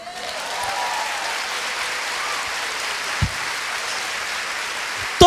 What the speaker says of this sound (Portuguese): Agora aplaude.